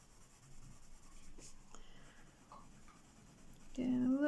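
A Castle Arts Pasteltint coloured pencil swatched on paper makes faint, scratchy, rubbing strokes in short uneven bursts, close and quiet, until a louder tonal sound cuts in near the end.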